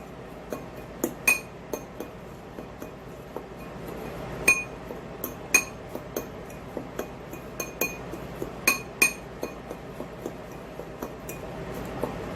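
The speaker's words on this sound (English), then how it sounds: "Just grab a fork and you're going to mix it." A fork clinks repeatedly against a glass bowl while ingredients for green chili turkey Salisbury steak are mixed, giving a steady series of light, bright taps of varying loudness, close by and with no talking.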